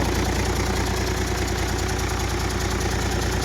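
A warmed-up Hino P11C truck diesel idling close by, a steady, even, slightly knocking rumble with dense low-end vibration and no voices.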